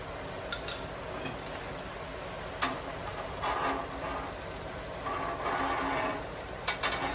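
Eggs frying in oil on a SteelMadeUSA griddle make a continuous close crackle and sizzle, broken by a few small scraping and tapping clicks from handling.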